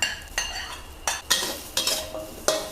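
Chili, shallot, garlic and ginger dry-roasted over low heat in a pan for a Lao vegetable soup, giving repeated scraping stirs with brief crackles, about five strokes close by with no voices.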